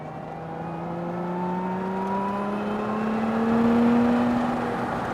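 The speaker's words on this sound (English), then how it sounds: "Love the way the supercharger sounds also." A supercharged Lotus Emira accelerates hard on a race track, a rising engine and supercharger whine that climbs steadily in pitch, heard from inside the car and growing louder before easing slightly.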